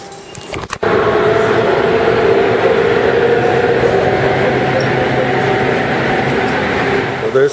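A Fukuoka subway train in Japan rumbles steadily with a loud, dense, continuous roar, heard from on board or close by, after a brief quieter moment at the start.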